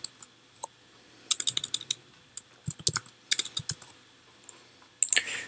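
Code being typed on a computer keyboard in short irregular bursts of close, crisp key clicks separated by pauses, no voices.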